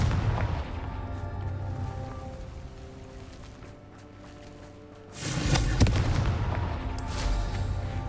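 Confringo blasting spell in the Hogwarts Legacy video game: a steady rumbling, crackling game backdrop, then a sudden loud explosive burst near the five-second mark that leaves a dense roar sustained through the end.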